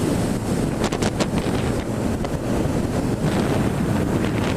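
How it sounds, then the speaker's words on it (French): Continuous heavy wind roar battering a motorcycle helmet microphone while riding a Honda CBR 1000 F, loud and unbroken, with brief gusty spikes and no talking. "il y a du vent, il y a du vent."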